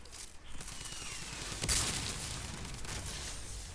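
Rapid gunfire crackles in Fortnite as a player shoots at buildings, a dense, steady volley with one sharper, louder burst partway through, heard alone with no voices.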